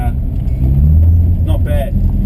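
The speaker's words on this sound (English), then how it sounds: "It's got a little bit of hesitation. You can hear it." Engine of a 1963 VW bus idling and running with a slight hesitation from a rich or lean mixture, steady low rumble close by with brief uneven stumbles.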